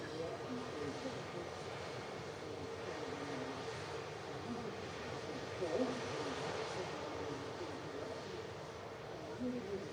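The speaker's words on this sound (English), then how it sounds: "the Hainan A330 about to take off on runway 23 right" A Hainan Airlines Airbus A330 sits on the runway at Manchester Airport before takeoff, its engines a steady distant roar that swells slightly midway, with a voice talking faintly at times.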